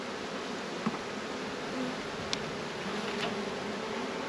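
Honey bees buzzing on brood frames in an open hive, a steady hum with light rustles and a couple of faint clicks, no talk.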